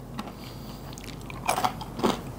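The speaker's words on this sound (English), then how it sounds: "The fries are definitely better than at home. So crunchy." Crunchy Dutch fries bitten in Amsterdam: two close, crisp crunching bites stand out against quiet room tone.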